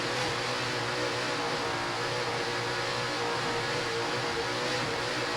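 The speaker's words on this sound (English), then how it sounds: "Just listen to those Mercury power plants." Offshore racing powerboat with Mercury engines, a loud sustained roar that holds steady without letup, thick and unbroken, with nobody speaking.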